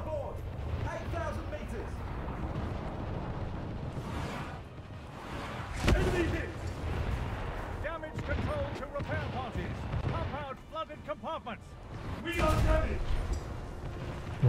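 Naval battle video game with destroyer gunfire: repeated booming shots and bursts at a steady loud level, layered over continuous engine and water rumble, with a player talking over much of it.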